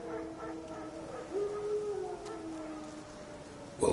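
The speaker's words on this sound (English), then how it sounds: "Wolves? No. Wild dogs." Wild dogs howl in a PS4 video game, with a long wavering howl rising and falling over a faint outdoor bed, ending in a short louder burst.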